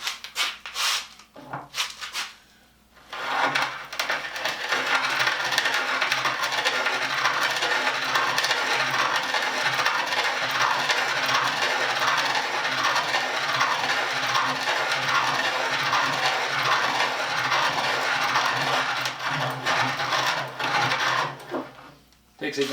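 A spoke pointer shaves a wooden wheelbarrow handle, giving a steady, continuous rasping cut that runs for about twenty seconds after a brief pause near the start. The cutting sound stays close and fairly loud.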